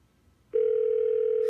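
A steady, loud telephone tone begins about a third of the way in and holds unbroken to the end, following a near-silent opening, as a birthday phone call is placed.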